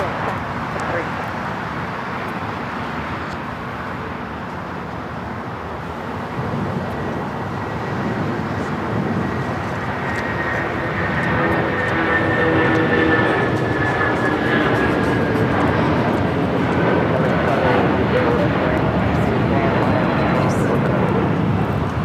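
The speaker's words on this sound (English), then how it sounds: "This is United Airlines 1488 taking off to Newark on the 757-200." A United Airlines Boeing 757-200 takes off from LAX bound for Newark, its engine roar building steadily from a distant rumble to a loud, sustained whine, with radio chatter and voices talking over it.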